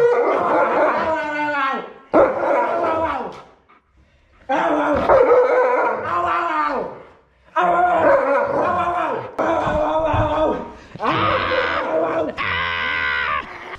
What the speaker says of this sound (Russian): Вы все сами слышите и видите реакцию собак.